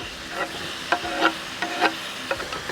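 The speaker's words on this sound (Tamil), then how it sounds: "நல்லா மிக்ஸ் பண்ணி தக்காளி வதங்கட்டும்." Tomatoes with chilli powder and spices cooking for a curry are stirred in a pan over a soft frying sizzle, with several scraping strokes of a spoon coming at uneven intervals, close by.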